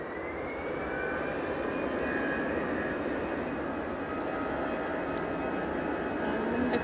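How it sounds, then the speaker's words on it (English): An Emirates Airbus A380 airliner at Manchester Airport, heard as a continuous broad jet engine roar that holds steady throughout, distant and unbroken with no speech. "Emirates A380 heading back to Dublin."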